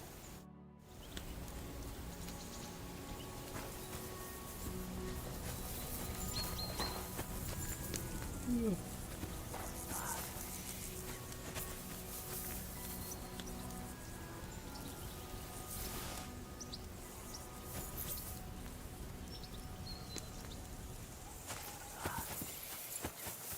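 Horse hooves clip-clop along a rocky path in the medieval video game Kingdom Come Deliverance II, a steady rhythmic walking pace at moderate volume beneath faint ambient outdoor sounds.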